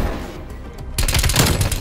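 Rapid gunfire from the Call of Duty video game, a quiet stretch with a few faint pops, then a dense loud burst of automatic shots close up, with no talk.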